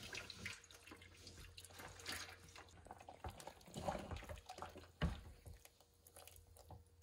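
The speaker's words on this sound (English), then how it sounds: "I just poured off the liquid." Plant dye liquid is poured off from a pot while fabric is dyed with native Alaskan plants, a faint, uneven splashing and trickling of liquid with a few soft knocks, quiet and close.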